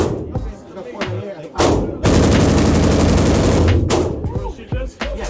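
Gunfire at an outdoor shooting range, with several close, loud shots followed by a long, sustained burst of rapid fire. Voices talk briefly around the shooting.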